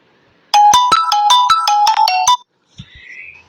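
A mobile phone rings with a bright electronic ringtone of about a dozen quick, evenly spaced tones, loud and close, then cuts off, leaving a brief faint sound afterward.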